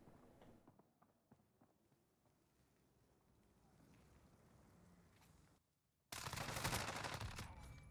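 Gunfire from a Fennec submachine gun in Modern Warfare, a loud, dense burst of rapid shots near the end after quieter movement and footstep-like sounds.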